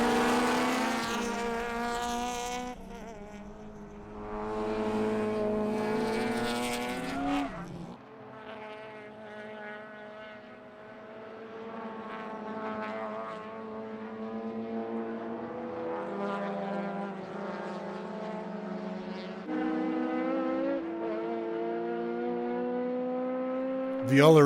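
Race cars in an Improved Production championship round, split into over 2 litre and under 2 litre classes, scream past with high-revving engines rising and falling as they pass and shift gears, under steady commentary.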